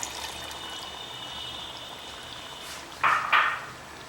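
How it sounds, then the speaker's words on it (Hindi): Water being poured into a pot of Kadaknath chicken curry while it cooks, a soft background simmer broken by two short splashing gushes near the end, close by. "इसको भुनने के लिए हम 1 बाउल पानी और डाल देते हैं इसमें।"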